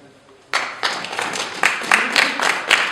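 An audience claps after a poetry reading, the applause starting abruptly and continuing as a steady patter of many hands, with a few louder individual claps rising above it.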